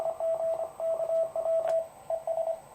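Morse code from a vintage Heathkit HW-8 QRP transceiver, heard through a DSP audio filter in wide mode: a steady single-pitched tone keyed in dots and dashes over a soft band-noise hiss.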